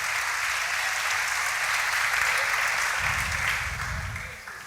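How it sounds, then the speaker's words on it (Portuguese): A church congregation applauds in a steady, loud wash of clapping that holds throughout and begins to fade near the end. "Pode aplaudir essa palavra mesmo, é de Deus."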